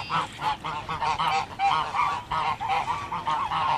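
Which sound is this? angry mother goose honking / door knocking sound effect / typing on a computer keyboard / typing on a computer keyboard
angry mother goose honking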